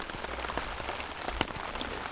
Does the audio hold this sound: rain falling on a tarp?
yes